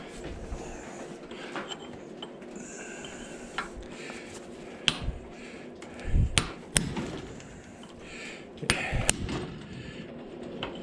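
A hammer drives a cold chisel into scrap copper, giving sharp metallic strikes spaced irregularly, with a few heavier blows clustered toward the middle and end over faint background rustle.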